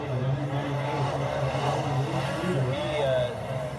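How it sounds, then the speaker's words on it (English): Snocross sleds race uphill through a whoop section, their engines a rough, layered drone heard at a distance beneath an announcer's commentary. "15 sleds trying to find their way through the whoop section."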